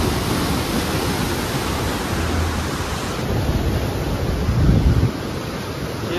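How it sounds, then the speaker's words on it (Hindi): River water roars past the closed gates of the Koshi barrage on the Nepal border during rising flow, a loud, continuous rushing wash with wind buffeting the microphone and no voices. "और यहाँ बंद ढोका के पास पानी किस तरह हो रहा है देखिए।"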